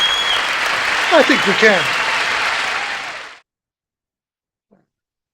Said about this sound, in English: Can we give some applause to Barry?